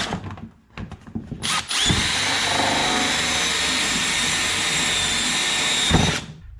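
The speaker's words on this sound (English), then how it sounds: "I have a hole saw. I'm going to make a series of holes" A few clicks, then a power drill with a hole saw, drilling holes for LED strip installation in a Ford F150, whines steadily and loudly for several seconds before winding down.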